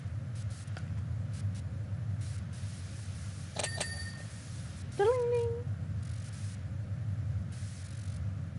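A cat meows once, short and rising, in Powerwash Simulator 2, after a few bright bell-like chimes, over a low steady background hum.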